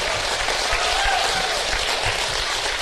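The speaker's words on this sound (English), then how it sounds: "Round of applause for our panellists, everyone." A live audience applauds panellists at a talk event, with a steady wash of dense clapping that holds at an even, fairly loud level throughout.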